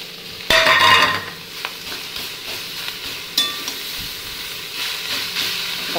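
A fish head frying in a pan with oil, a sharp burst of sizzling as it hits the hot pan, then a steady low hiss with occasional stirring clinks.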